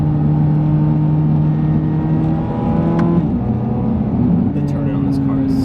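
A 2023 Corvette Z06 drives along a narrow road with steady engine drone and tire noise, holding a fairly constant note, with a brief rise near the middle and a voice talking over it.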